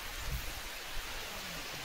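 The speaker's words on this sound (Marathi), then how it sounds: "भरपूर पाऊस आलाय मित्रांनो" Heavy rain pours down over a rice field during harvest, a soft, even, continuous wash of hiss with no pauses.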